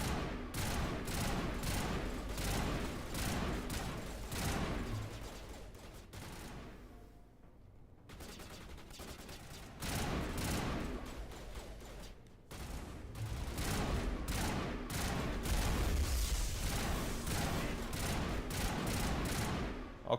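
Rapid, dense gunfire from the player's weapon in the video game Mass Effect, firing in sustained loud bursts with a brief drop-out around the middle and another short pause before the shooting resumes.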